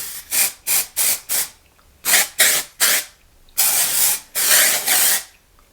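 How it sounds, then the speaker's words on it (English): Short hissing bursts of hair texture spray: four quick puffs, then three more, then two longer sprays, each close and crisp with brief silence between. "I'm just going to take my texture spray and spray it."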